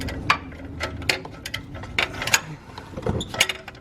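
Ratchet loosening the upstream oxygen sensor on the exhaust of a 2014-2019 Kia Soul: a run of sharp metallic clicks and ratcheting bursts, close by and fairly loud, with no talk over it.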